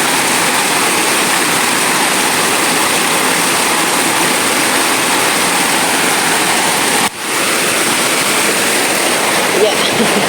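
Flowing water pours loudly and continuously at a waterfall or stream, a dense close roar with a brief dip partway; voices are faintly mixed in.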